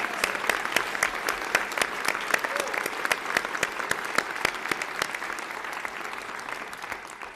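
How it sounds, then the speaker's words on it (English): A State of the State address audience applauds steadily, with dense clapping that slowly fades toward the end. "Let's give them another round of applause."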